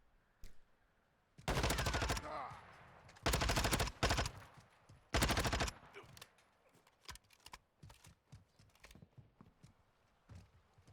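Bursts of automatic gunfire in a shooting video game against bots come in three loud sustained volleys, separated by quieter clicks and scattered single shots.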